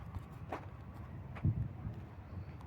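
Horses' hooves clip-clop lightly at a tourist site in Cappadocia, a few faint uneven steps over low ambient rumble.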